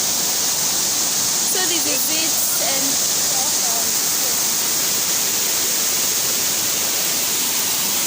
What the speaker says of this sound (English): So we just arrived at the mini waterfall.